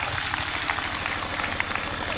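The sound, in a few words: crowd applause at rally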